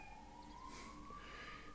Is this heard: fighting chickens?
no